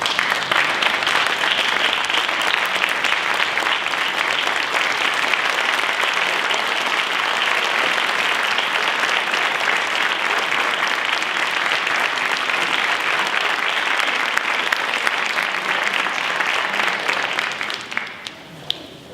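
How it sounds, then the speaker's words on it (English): A standing ovation for first responders at the Prince William Valor Awards, loud sustained crowd applause that carries on evenly and then tapers off at the end. "please give a standing ovation for our heroes"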